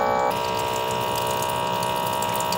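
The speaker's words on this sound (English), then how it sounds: "this jet of water that is coming up and filling the bowl is coming out of that white reservoir" A LetPot LPH Max hydroponic unit pumps a jet of water up from its white reservoir into a bowl, a steady close splashing and rushing hiss with a constant tonal pump hum, continuous and alone.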